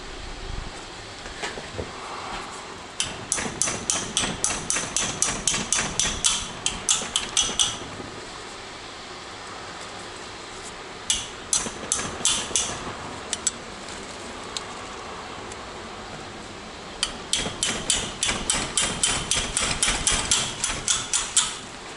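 Bolts on the engine case of a 1981 Kawasaki KZ550 motorcycle are cracked loose with a tool, producing bursts of rapid metallic clicking, near and fairly loud, separated by quieter pauses.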